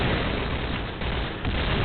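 An explosion in the Point Blank (PB) shooter video game: a loud, dense roar of blast noise that fills nearly two seconds and eases briefly midway before surging again.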